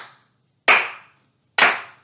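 Three isolated hand claps, close and crisp, spaced nearly a second apart in a slow, deliberate golf clap.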